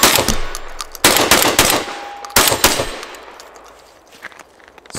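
An EG200 shotgun fires rapid shots, sharp loud blasts in quick bursts with echoing tails and short pauses between volleys.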